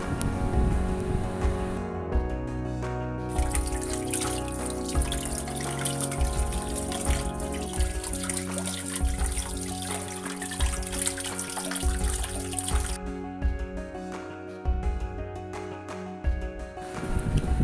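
Water runs continuously as leaf skeletons are gently rinsed clean by hand, a close, steady splashing and trickling from a tap with no talking.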